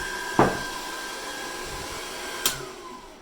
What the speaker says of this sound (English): So you just undo the bleed valve.